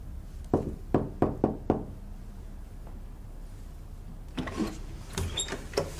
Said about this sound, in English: I've been knocking for ages.